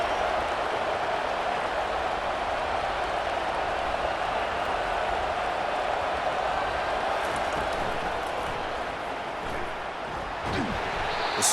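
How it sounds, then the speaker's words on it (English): Stadium crowd noise in a college football video game, a steady, dense roar of a large crowd that stays loud and even throughout, with no speech. "here comes the noise. This crowd is trying to inspire this defense to make a big red zone stop."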